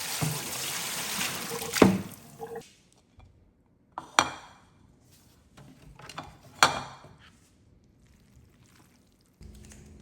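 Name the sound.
dipping fresh rice noodles in boiling water and draining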